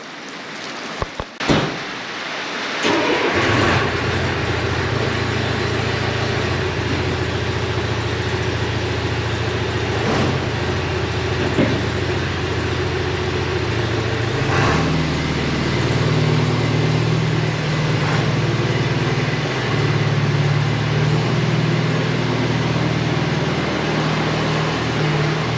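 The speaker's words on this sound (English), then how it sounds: "I just move the backhoe" Backhoe engine running steadily on a farm on a rainy day, a loud continuous low rumble with rain noise on top, holding level throughout after a brief clunk at the start.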